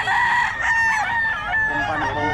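A stud fighting rooster crows loudly and close by, a long strained call with several overlapping crows from other birds nearby.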